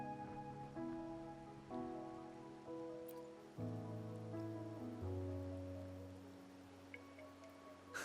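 Steady rain hiss falls on a rainy night in a video game, running continuously beneath sustained, prominent music.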